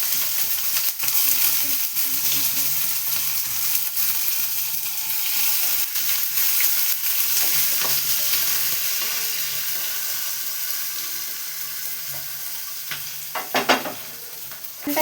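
Black pepper, coriander, cumin, bay leaf and onion frying in hot oil for a chicken dish: a continuous, even hiss of sizzling with faint stirring and a few clinks near the end.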